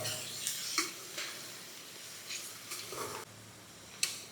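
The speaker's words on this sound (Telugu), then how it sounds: "మటన్ వేసుకొని మటన్ ఒక 10 నిమిషాల వరకు ఈ ఆయిల్లో మగ్గాలి బాగా." Mutton pieces cooking in hot oil with softened onions for a gongura mutton curry give a low, steady sizzle, broken by occasional scraping stirs of a spoon against the pan.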